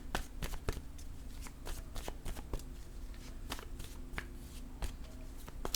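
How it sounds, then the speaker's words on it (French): Playing cards are handled and laid down on top of one another, giving soft, quick shuffling taps and flicks close by at low volume, with no talking. "Je vais déposer une carte sur celle-ci"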